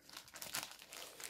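A plastic wrapper crinkles and tears open around a hard Greek parmesan-style cheese, a brief, faint rustle peaking in one crisp crackle, close up with no speech.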